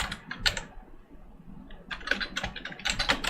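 Quick bursts of keyboard typing while entering Kotlin code on a computer, clustered keystrokes with a short pause in the middle, close and fairly crisp.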